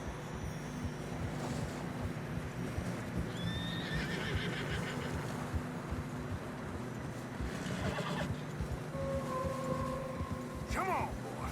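Horses in the snowy Western game Red Dead Redemption 2 whinny and neigh while hooves clip-clop steadily on the trail, all at low volume with a faint voice in the background.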